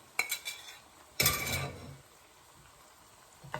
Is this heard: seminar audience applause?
no